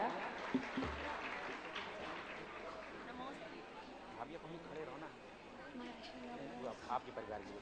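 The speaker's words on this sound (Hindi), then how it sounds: "इन दोनों के सम्मान में जोरदार तालियां।" An audience claps together during a prize ceremony at a Jain religious discourse, a soft, steady crackle of distant applause with some voices underneath.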